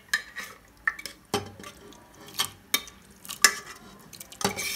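Keema is stirred into cooked urad in a metal pan, with a spoon scraping and clinking against the pan in separate close strokes and a faint sizzle between them.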